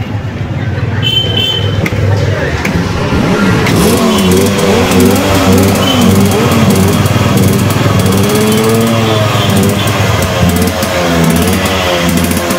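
A Yamaha RX 135 five-speed two-stroke motorcycle engine idles loudly and close up, just restarted after a spark plug change, with a constant buzzing drone and a few small throttle rises throughout.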